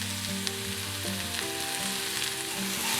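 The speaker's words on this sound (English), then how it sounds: "Gently saute this off until the onions are nice and soft" Finely diced onion and a little parsley sauté in a hot pan, giving a steady, close, dense sizzle that runs unbroken throughout with no talking.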